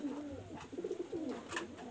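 A pair of young imported-bloodline pigeons coo quietly nearby, a few soft, wavering low calls rising and falling in a short burst with no talk.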